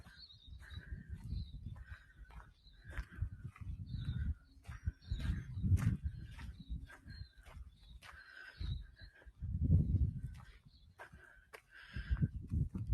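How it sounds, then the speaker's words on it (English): Birds sing along a spring woodland track at Echo Bluff, with short chirps and whistles repeating at a steady pace. They sit over a low rumble of footsteps and handling noise. No one speaks. "Listen to the birds."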